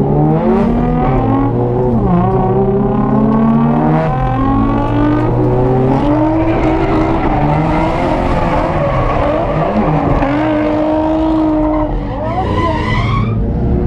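A Nissan 240SX in a race, drifting hard close to other cars, its engine droning loud and steady with shifting revs and squealing tires, and a brief dip near the end as the contact comes.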